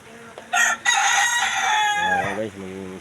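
A rooster crows loudly and close by in a backyard coop area, a long drawn-out call followed by shorter clucking notes from the chickens.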